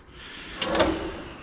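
A kitchen drawer slides open or shut in a single short, moderately loud rumble with a soft knock near its end, heard alone over quiet room noise.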